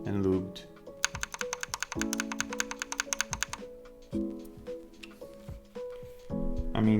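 Rapid keystrokes on lubed switches of a Drop Alt mechanical keyboard, a dense run of sharp clacks in the middle with sparser taps around it, close and clear, with brief talk at the start and end.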